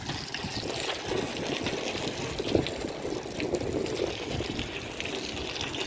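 Water pours steadily and close by into a box for a post at a construction site, a continuous splashing rush with small gurgles, and no one speaks.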